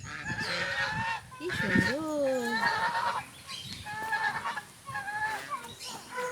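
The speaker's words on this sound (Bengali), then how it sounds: "ডাক রাজহাঁস, কতগুলো রাজহাঁস" A flock of domestic geese honking repeatedly, several overlapping calls close by, with steady outdoor background noise at a resort.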